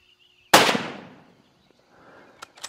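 A single hunting rifle shot on a Limpopo province safari, a sharp loud crack with a fading tail, followed by silence and a couple of faint distant knocks.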